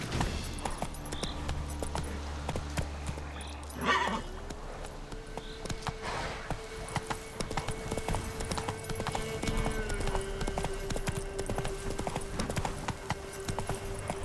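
A horse galloping in The Witcher 3, rapid clip-clop hoofbeats running throughout with a couple of whinnies, under a low sustained musical drone.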